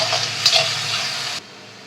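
Masala sautéing in a hot pan for Udupi-style masala chitranna rice: a close, loud sizzle with brief stirring scrapes over about a second and a half, then cutting off abruptly.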